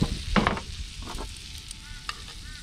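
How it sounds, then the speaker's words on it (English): Butter sizzles in a pan while mackerel fries, a soft steady crackle with a couple of louder stirring bursts near the start and brief sputters later, close and fairly quiet. "Yeah, just mix that butter around."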